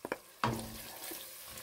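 Salt, red chilli, dried coriander and turmeric drop into a hot pot for a chicken or potato shorba: a couple of quick taps, then a steady, soft sizzle of frying spices stirred in oil.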